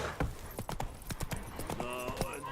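Hooves of Roach, the horse in The Witcher 3 video game, clip-clopping in a brisk irregular rhythm, close and clear, with game music tones rising beneath toward the end.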